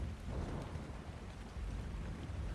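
Steady rain in Ark Survival Ascended, a soft, even hiss with a low rumble underneath, constant and fairly quiet, with no talking.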